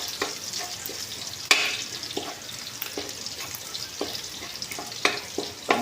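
Garlic sautés in a pan for ginisang repolyo, a steady close sizzle broken by sharp scraping knocks of stirring every second or so.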